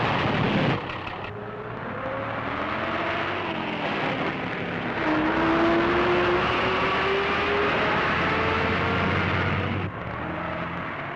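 A special heavy lorry built to carry three or four times a normal load, driven with a steady loud engine drone and gear changes, rising and falling in pitch, close and continuous with no talk.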